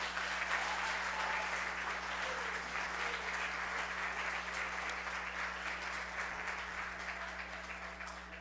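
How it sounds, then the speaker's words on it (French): Sustained audience applause at a vocal recital, dense steady clapping from a crowd that carries on for the whole stretch and eases off slightly toward the end, with a constant low electrical hum underneath. "Encore une fois, un applaudissement."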